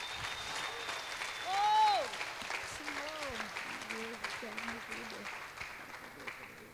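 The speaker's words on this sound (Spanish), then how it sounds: "Aplauda el nombre de Cristo" A church congregation applauds throughout, a broad wash of clapping with a voice speaking and briefly rising in pitch over it.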